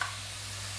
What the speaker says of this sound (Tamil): இந்த கருகப்பிலையை பாதி வந்து ஆயிலில் ரோஸ்ட் பண்ணுறோம்